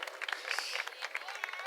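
An audience at a play in Banswara gives a round of clapping for a children's team, dense sharp claps and crowd noise ringing through a hall at a faint level.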